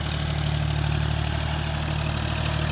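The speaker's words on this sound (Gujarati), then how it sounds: "ડેમો લઈ રહ્યો છે ટ્રેક્ટર ઉપર" A tractor engine runs steadily during a deep ploughing demonstration in a summer field, a loud continuous low diesel throb with a constant rumble and no break.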